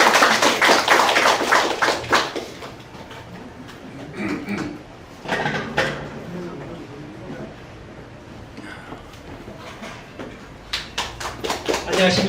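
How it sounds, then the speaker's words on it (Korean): Audience applause at a lecture forum, loud dense clapping at the start that thins into scattered claps, then swells again toward the end, with voices between. "박수."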